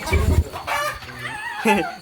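A chicken clucks and squawks up close in short bursts, loud and agitated, with some background noise.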